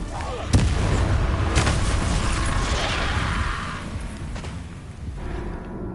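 Confringo fire-spell blasts in Hogwarts Legacy land as booming, crackling explosions in the middle of a fight, loud and dense, with sharp impacts at the start and rumbling debris that trails off.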